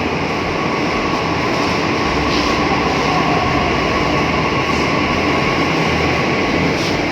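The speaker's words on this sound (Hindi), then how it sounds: "ये हमारी प्यारी दिल्ली की मेट्रो।" A Delhi Metro train rumbles along at a steady, loud roar, with a continuous mechanical hum and faint rhythmic clatter throughout.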